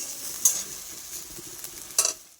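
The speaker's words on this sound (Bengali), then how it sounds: "মশলাটা দেওয়ার পরে অল্প একটুখানি সময় কষিয়ে তারপরে মাংসটা ঢেলে দেবো" Mutton frying in a pan with a spice masala of ground chili and garlic, a soft continuous sizzle broken by two sharp scraping stirs of a spatula, then fading out.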